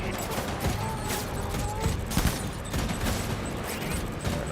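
Rapid bursts of gunfire in the video game Death Stranding 2 crackle and rattle close and loud across the whole stretch, layered over dense game noise.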